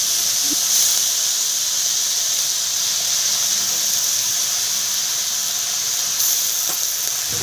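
Leafy greens hit a hot pan with chicken, setting off a loud, continuous sizzle and hiss of frying that stays steady and close throughout.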